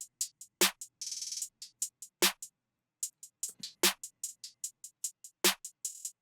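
FL Studio drum pattern with a sharp snare hitting every couple of seconds, skittering hi-hat ticks and a buzzing hi-hat roll, plus faint low notes, clean and fairly quiet with nothing else playing.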